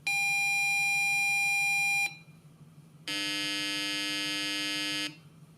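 Alarm from an Arduino GY-61 seismic sensor circuit sounds two loud, steady electronic tones, each about two seconds long with a brief pause between them; the second is a harsher, buzzier tone. No one speaks.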